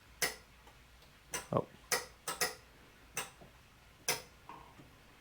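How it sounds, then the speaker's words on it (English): Car headlight relay clicking as the high beams are switched, a series of sharp, close clicks spaced irregularly across several seconds, with a brief voice murmur among them. "You can hear the relay going off."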